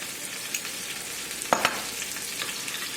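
Burger sauce made with ketchup, lemon juice, paprika and sugar is stirred in a bowl, giving soft, steady wet scraping with a couple of sharper clinks of the utensil midway.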